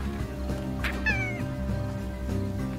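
A cat in the Slime Rancher video game lets out two drawn-out, wavering meows, clear and close, over a low game hum with no talking.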